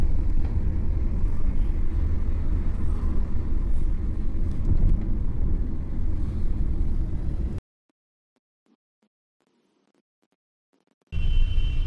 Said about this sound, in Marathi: आणि तुम्ही ट्रॅफिक पाहू शकता एवढ्या रात्रीची पण